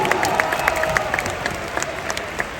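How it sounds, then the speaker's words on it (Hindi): Steady applause from a crowd at the 2022 IIFA Awards on Yas Island, Abu Dhabi, dense clapping sustained throughout with a few scattered cheers rising above it. "एक बार जोरदार तालियां"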